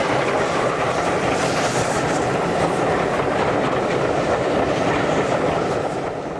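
An LNER A2 steam locomotive, Blue Peter, built at Doncaster in 1948, rumbles past in a steady, dense roar of running gear and rail noise that stays loud and continuous from start to finish.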